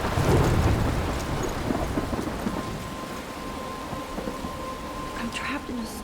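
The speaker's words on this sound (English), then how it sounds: "I'm trapped in a storm?" A heavy thunderstorm in the video game Life is Strange, with dense, steady rain hissing over a deep rolling rumble of thunder that is loudest at the start and slowly eases.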